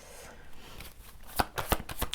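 Playing cards are shuffled and handled up close, with a soft rustle early on and then a run of crisp, sharp riffling snaps in the second half, with no talking.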